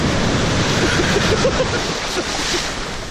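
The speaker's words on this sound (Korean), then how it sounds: "파도가 장난이 아니야." Rough, high summer sea surf keeps up a constant loud roar of churning water, with faint voices briefly poking through the noise.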